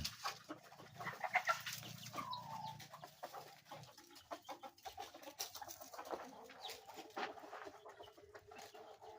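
Bantam chickens with jungle-fowl colouring cluck softly nearby, giving short scattered calls and chirps over a quiet outdoor background.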